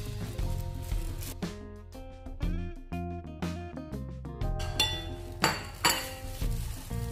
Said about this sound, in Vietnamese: Và mình sẽ tiếp tục trộn đều.